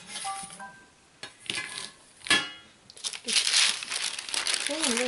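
Baking paper crinkles and rustles as it is handled and joined for a cake, crisp irregular crackles close by, mixed with a voice talking over them.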